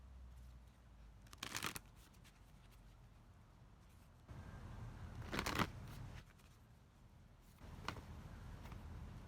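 Tarot cards are shuffled for an oracle reading in three quiet, separate bursts of rapid riffling, each a second or so long, against a faint background of soft handling noise.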